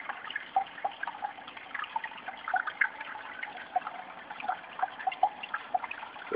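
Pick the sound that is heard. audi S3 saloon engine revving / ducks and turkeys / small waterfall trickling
small waterfall trickling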